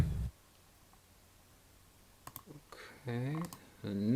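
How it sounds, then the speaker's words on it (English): A few sharp keyboard clicks break a quiet stretch, mixed with short, tonal electronic voice-like sounds that rise and fall. "clicking on a button, clicking on the keyboard"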